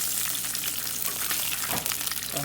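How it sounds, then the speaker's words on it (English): Tilapia fillets fry in hot grease, a loud, steady, crackling sizzle filling the whole clip with no speech. "It's almost kind of like it's deep frying without the batter."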